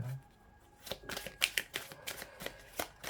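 Tarot cards handled and laid out on a table, a quick run of crisp slaps and flicks with sharp, uneven taps, near and alone.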